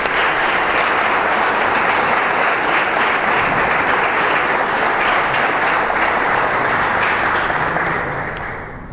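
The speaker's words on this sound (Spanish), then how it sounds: "le damos un aplauso al Padre" A lecture audience gives a priest sustained, dense applause after his theology conference talk, steady and loud before fading at the very end.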